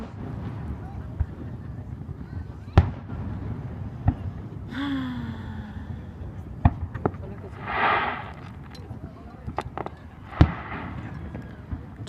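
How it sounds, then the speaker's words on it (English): Fireworks bursting at an Independence Day display: several sharp, loud bangs spread across the scene, with a whistling rocket and a crackling burst between them, over steady crowd chatter and wind noise. "because fireworks are hope."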